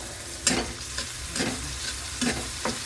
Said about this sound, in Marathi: त्यानंतर कांदा आणि टोमॅटो. आता यांना व्यवस्थित परतून घ्यायचं.